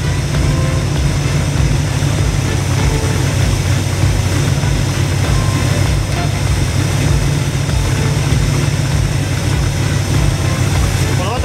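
A Cobra replica sports car engine, its idle speed just adjusted after a vacuum fault was fixed, idles with a steady low rumble for the whole stretch, close and even, with no clear talk over it.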